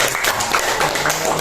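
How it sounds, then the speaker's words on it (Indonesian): A brief burst of classroom clapping for a student during a teacher's coaching session, steady and fairly loud across the whole moment with no clear speech. "Tepuk tangan dong buat"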